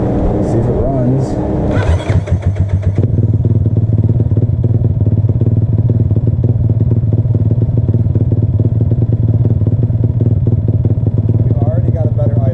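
A motorcycle engine fitted with a 34mm carburetor idles steadily and loudly up close, its rapid even firing continuous after a brief burst of clatter at the start.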